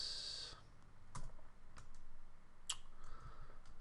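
Sparse keystrokes on a computer keyboard while entering text in Sony Vegas, a few soft isolated clicks spaced irregularly over a quiet room background.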